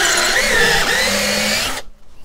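Craftsman 19.2 cordless drill running on a Dewalt 20V battery adapter at high speed, a steady loud whine with a slight pitch wobble that stops abruptly near the end, leaving near silence.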